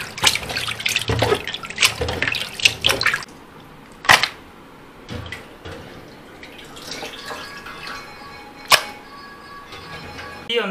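Raw liver being washed in water, close splashing and sloshing at first, then quieter drips, trickles and a couple of sharp clinks against the vessel.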